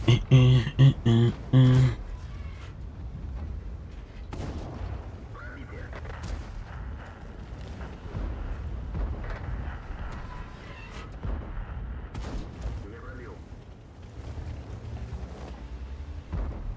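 ST-62 tank in World of Tanks fires gold ammo, a rapid burst of heavy booming cannon shots up front, followed by rumbling engine and battle ambience with someone talking over it.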